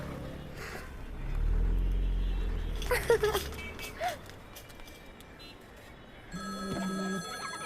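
A telephone rings with a steady electronic tone near the end, after a stretch of rumbling background noise and some vehicle-like sounds.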